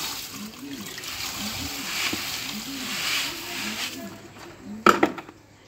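A prepared mortar-like mixture is poured into a bucket of water for making an electrolyte, giving a steady close splashing and trickling that ends in a few sharp knocks against the bucket.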